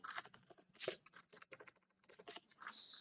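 Rapid keystrokes on a computer keyboard as a sudo command is typed, a close, quick run of uneven clicks with short pauses, ending in a louder burst of key presses.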